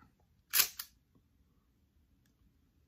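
A vintage Konica film camera's shutter fires after being wound: one sharp, close mechanical snap followed quickly by a second click, then quiet.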